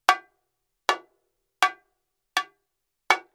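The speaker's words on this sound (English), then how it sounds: "or maybe you are doing a rim shot, that's a good sound" Bongo struck flat with a stick close to the rim, giving five sharp, bright, isolated hits spaced evenly with quick decay and silence between them.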